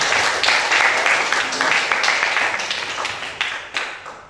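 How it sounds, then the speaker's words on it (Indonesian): Classroom applause for a student, a dense burst of many hands clapping that stays loud and steady before tapering off toward the end, with no talk over it. "Tepuk tangan untuk Reca dulu."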